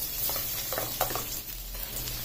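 Garlic sautéing in a pan, a steady close sizzle and crackle with a few faint stirring scrapes, no talk.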